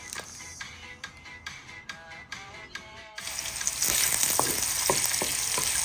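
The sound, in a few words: sautéing garlic in olive oil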